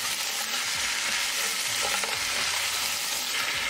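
Frozen stir-fry vegetables and onion frying in hot oil give off a constant, dense hiss and crackle, close and fairly loud, with faint shuffling from stirring and no voices.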